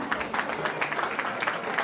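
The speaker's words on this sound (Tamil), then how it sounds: "இங்கே மீண்டும் ஒரு தடவை உங்கள் பலத்த கரகோஷம்" Audience applause at a Tamil New Year cultural show in Buffalo, NY, after a girl's Madhava Krishna dance, steady dense clapping from a crowd throughout the short stretch, moderately loud with no voices on top.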